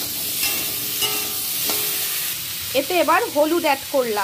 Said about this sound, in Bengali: আলু কুমড়ো ভালো করে ভেজে নেব।